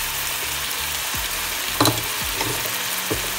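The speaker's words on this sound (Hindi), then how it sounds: "टमाटर की प्यूरी ऐड कर रही हूँ" Tomato puree for cheesy pasta added to a hot frying pan, a steady sizzle with a brief louder splatter and a few spatula scrapes, close up with no speech.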